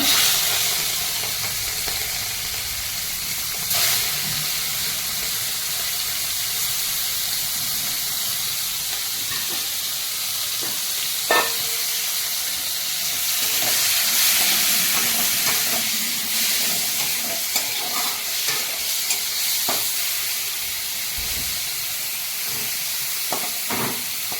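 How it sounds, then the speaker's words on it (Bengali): Shrimp frying lightly in a pan for mixed fried rice, a steady broadband sizzle and hiss that runs the whole time, with a few louder pops and spatters and occasional stirring clinks, close and without speech. "এবার আমি চিংড়ি মাছটা ভেজে নেব।"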